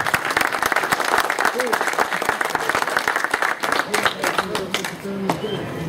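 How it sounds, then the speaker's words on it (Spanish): An audience at a child growth and development event in Santa Cruz de Cocachacra claps loudly in steady, dense applause that runs the full length, with crowd noise mixed in. "Vamos a recibirle con fuerte voto de aplausos."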